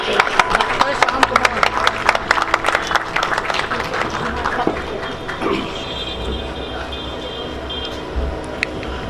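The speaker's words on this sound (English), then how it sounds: "In a round of applause, I would like to call to sir on the stage." Conference audience claps loudly at first with sharp distinct hand claps, then the applause thins and fades out into room noise and murmuring voices.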